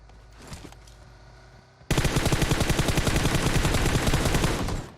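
Rapid automatic gunfire in PUBG Mobile erupts after a quiet moment, a loud, close, tightly spaced burst of shots lasting about three seconds before cutting off.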